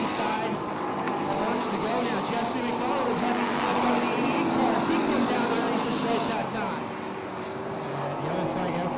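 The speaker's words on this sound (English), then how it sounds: "Van Wert just can't seem to complete the pass here on the Silverthorne 9" Thunderstock cars race on an oval track, their engines roaring in a steady dense drone that swells slightly as the pack passes, with a commentator talking throughout.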